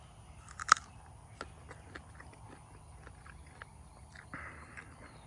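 A firm, ripe jujube fruit being bitten and chewed in an orchard, giving a sharp crunch followed by a run of quieter, irregular chewing crunches close to the microphone.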